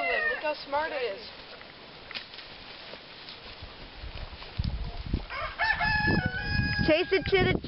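A rooster dodging people in a farmyard gives a short call at the start, then a loud, drawn-out crow in the final seconds, with some shuffling noise between them.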